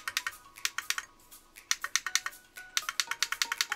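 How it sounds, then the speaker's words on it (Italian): Micro switches on a sim racing wheel's non-magnetic paddle shifters, each topped with an aluminium dome, clicking in quick crisp bursts, close and alone, in rhythmic runs of several clicks separated by short pauses. "l'azionamento è dato da un normale micro switch e la parte del click è data da una cupola in alluminio posta proprio sul micro switch"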